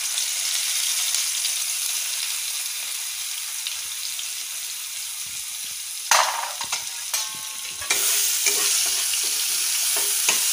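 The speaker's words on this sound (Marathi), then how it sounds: "लसूण लालसर तळला ना आपण त्यात ॲड करू" Garlic fries in hot oil with mustard seeds and curry leaves for a dal tadka, a steady loud sizzle throughout with sharper crackling bursts and spatters partway through, no voices.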